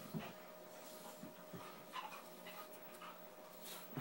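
Playing dogs give faint, scattered whimpers and yips with light panting, heard at low volume over a quiet background.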